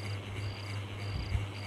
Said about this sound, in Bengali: বাড়ির পেছনের ঝোপ জঙ্গল থেকে ভেসে আসা ঝিঝির ডাক